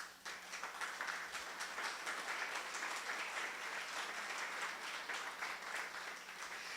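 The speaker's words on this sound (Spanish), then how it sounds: "Un aplauso a Jesucristo." A Catholic church congregation applauds Jesus Christ during a sermon on the anointing of the Holy Spirit, a steady wash of many hands clapping together at moderate loudness, sustained evenly from start to finish with no speech over it.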